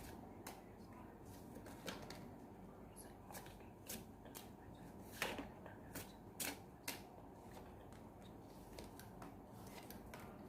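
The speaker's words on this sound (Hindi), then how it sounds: "गैस में भी ये कार्ड निकाल रही हूँ" Tarot cards being shuffled and drawn, with soft papery riffles and sharp flicks and snaps scattered through a quiet room, a faint voice now and then.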